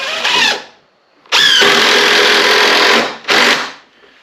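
A power drill drives screws into the wooden frame of a DIY woodshed, running in three loud bursts: a short whirring run, a long steady drive of about two seconds, then a brief final burst, with pauses between.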